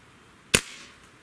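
A Beeman Model 1359 .25 caliber bullpup air rifle fires once, a sharp close crack with a short fading tail, alone without talk.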